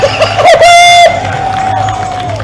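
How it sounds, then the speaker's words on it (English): A crowd at a sports event cheers and whoops loudly during a timeout, with shouting voices and a long, sustained yell rising above the roar, close and energetic. "let's hear a little enthusiasm from the crowd"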